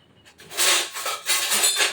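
Fenugreek seeds fry and crackle in a pan, a close series of sharp popping bursts in quick clusters against a quiet background.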